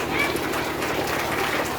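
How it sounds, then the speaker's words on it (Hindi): An audience at a school Independence Day celebration applauding a student, a dense, steady wash of clapping heard from a distance with a low background rumble, continuous throughout. "तो आइए जोरदार तालियों के साथ स्वागत करते हैं हमारी इस सारी छात्रा के लिए अदिति।"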